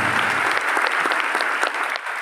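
Church congregation applauding during a sermon, a steady dense wash of clapping with a few sharper individual claps standing out, loud and close throughout.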